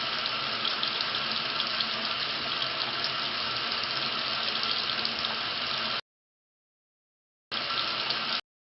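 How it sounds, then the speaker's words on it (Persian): Hands are washed three times up to the wrists under a running tap during ritual ablution, a steady close rush of water hissing into a sink that stops abruptly, pauses, then resumes briefly. "پس هر دو دستمون را تا بند دست 3 بار میشوییم."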